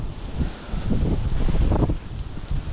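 Wind gusts outdoors along a town street, a low rumbling buffet on the microphone that swells and eases over a few seconds.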